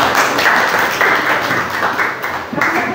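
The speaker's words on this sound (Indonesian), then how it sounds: "Kasih tepuk tangan lagi" Audience applause fills a classroom presentation session, a dense, steady wash of many hands clapping throughout, loud and close.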